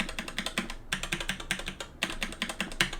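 Fast typing on a SteelSeries mechanical keyboard fitted with Gateron red QX2 switches, a dense run of close, crisp clacks in quick bursts with brief pauses, no voices.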